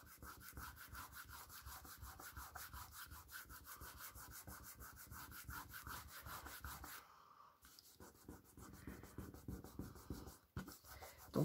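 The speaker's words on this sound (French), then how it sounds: "on vient surtout gommer les traces de colle avec le doigt" A finger rubs glue traces off album pages, a quiet, fast rhythmic scrubbing friction that runs steadily, stops for a moment, then resumes.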